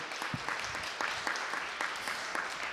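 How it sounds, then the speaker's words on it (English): Applause from an audience honouring award recipients at a human rights awards ceremony, a steady dense wash of clapping that holds evenly throughout at moderate loudness. "Let's give them a round of applause."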